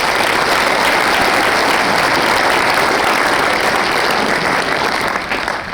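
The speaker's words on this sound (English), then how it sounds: "Round of applause for these two." An audience at a military commander's call gives a sustained round of applause, dense and steady clapping that fades slightly at the end, with no talk over it.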